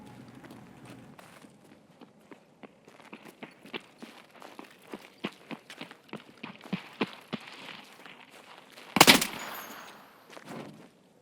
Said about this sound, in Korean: 발소리 들리지 않아?